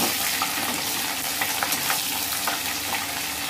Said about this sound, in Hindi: और इसको 2 मिनट भूने